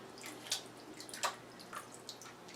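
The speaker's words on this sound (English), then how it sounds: "I'm dunking it in and out to clean the poop off of it." A broken-off lobster tail dunked in and out of water to rinse it, giving soft splashes and drips, with a couple of sharper sloshes standing out against quiet background, no talking.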